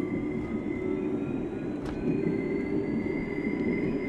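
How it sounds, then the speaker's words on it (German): A regular railway train rolls past in the bus simulator game OMSI 2, a steady rumbling drone with a faint high whine running across it, continuous and moderately loud with no talk. "da ist sogar die reguläre Eisenbahn da oben"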